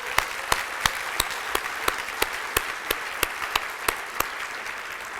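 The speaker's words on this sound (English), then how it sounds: "Let's give them a round of applause." A crowd applauding, with loud claps falling into a steady, even rhythm over a continuous wash of clapping.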